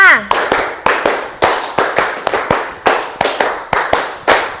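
A class stands and claps hands together during an ice-breaking activity, delivering sharp, loud claps in short counted bursts with brief pauses between groups.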